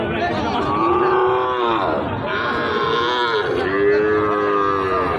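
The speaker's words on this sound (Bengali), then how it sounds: "গরুটা কিন্তু কোয়ালিটি ফুল গরু বেশ কয়েকজন ব্যাপারে দেখলাম এখানে নজর দিছে এই গরুতে" Cattle low repeatedly at a busy border-area cattle market where Sahiwal bull calves are sold, long drawn-out moos rising and falling close by over a steady murmur of crowd chatter.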